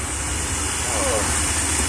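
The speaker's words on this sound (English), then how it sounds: "We are checking the RV engine." An RV engine idles with a constant low rumble and broadband roar, loud and unchanging throughout, heard up close during a road trip to a racing event.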